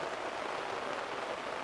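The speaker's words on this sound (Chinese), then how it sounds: "下雨耶，到底谁是雨神啊？" Rain falling outdoors on a day out in Taichung, a steady, even hiss of drops that stays constant throughout without other sounds.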